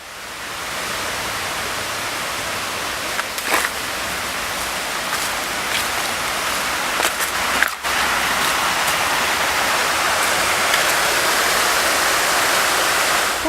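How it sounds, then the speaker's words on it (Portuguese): Waterfall in the Atlantic Forest on Morro da Lagoa da Conceição, a loud, steady rush of falling water that fills the whole scene without pause, heard close and with no voices. "em meio à Mata Atlântica, rodeada de floresta e cachoeira"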